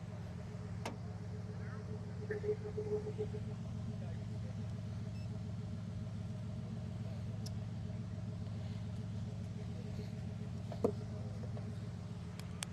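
A truck's engine idles and rumbles low and steady as it creeps forward at low speed onto a ramp during a Daytona Beach truck event, a continuous near drone with a few faint clanks and background voices.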